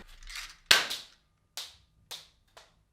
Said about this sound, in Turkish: Eski bildiğimiz oyuncak tabanca.